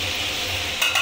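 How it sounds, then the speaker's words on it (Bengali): Ash gourd pieces frying in a wok give a steady, close sizzle, with a couple of brief scraping stirs near the end. "এবার এগুলোকে ভালো করে ভেজে নেব।"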